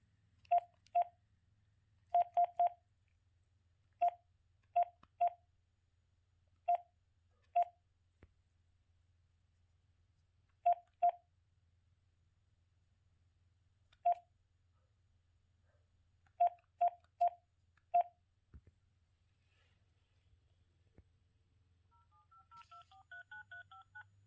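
Phone keypad tones dialing out on a Samsung Galaxy S21, a sequence of crisp, clear beeps in short clusters separated by pauses, followed by a quiet melodic chime at the end.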